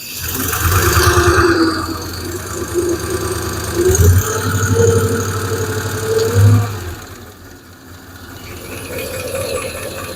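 A Hemi car engine runs steadily at idle with a persistent tick, swelling briefly with throttle blips around the middle and near the end, loud and close with no talk.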